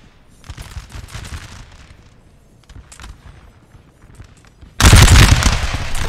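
Napoleonic musket volleys crackle across a siege battlefield in Napoleon: Total War, scattered distant shots rolling on before a sudden loud, dense fusillade erupts and holds as a continuous roar.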